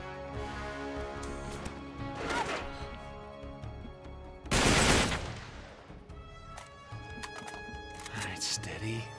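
Uncharted 3 sniper fire with sharp isolated cracks amid game sounds, one loud blast standing out near the middle, with a voice talking over the action.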